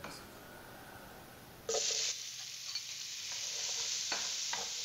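Chopped onions hit hot olive oil in a pan on low heat for chicken chili, giving a sudden sizzle that settles into a steady frying hiss with a few stirring scrapes, close and moderately loud, no voices.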